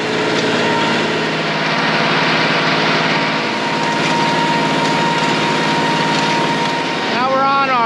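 A tractor engine drones steadily while mowing a long hay field, loud and close with a constant hum and a brief rising whine near the end; speech 0.62 but no words transcribed.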